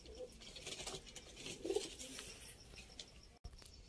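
Golden dab pigeons in a coop, a brief low coo amid faint pattering and rustling of feet and wings, quiet and close.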